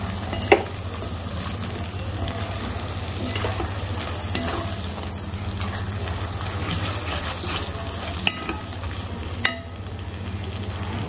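Ground masala paste fried in oil over a low flame for Kashmiri dum aloo, cooked until the oil separates: a steady, dense sizzle with occasional sharp clicks of stirring, close up and without talk.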